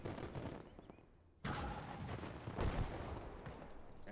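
Sheridan artillery fires in the WW2 strategy game Gates of Hell with two loud, booming blasts about a second apart. Each one is followed by a crackling, rumbling tail over a lower background din.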